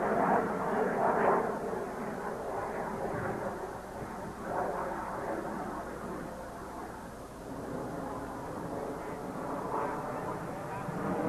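Blue Angels Diamond formation jets pass an airshow crowd at Carswell Air Force Base in 1987, a continuous broad engine roar that swells and holds for several seconds with voices mixed into the background.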